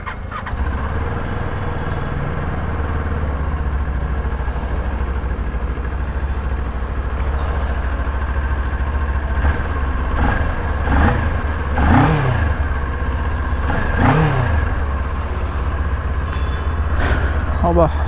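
A Kawasaki motorcycle engine idles steadily at a service center on a rainy day, with a constant low hum and a few short revs rising and falling in the second half.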